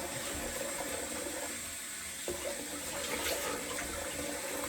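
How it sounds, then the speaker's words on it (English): Cold water runs steadily from a tap, a continuous splashing hiss close by with no talking. "Give that a little shoosh with some cold water, just to close the pores up."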